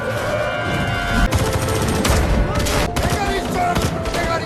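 Rapid bursts of gunfire in a film shootout between two groups, dense and loud throughout over a blaring soundtrack.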